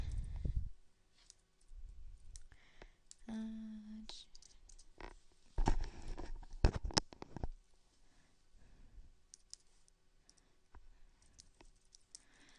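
Computer keyboard keys click in scattered bursts and runs at close range, faint and with pauses, while an email address is entered; a short vocal sound appears early and some tonal beeps are heard midway.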